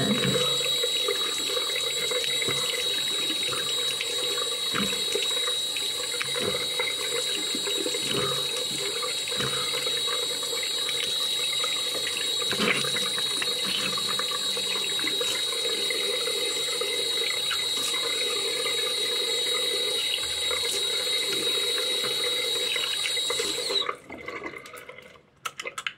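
Tap water runs steadily into a sink while a face mask is rinsed off, a continuous close splashing stream with faint drips. The flow cuts off abruptly near the end.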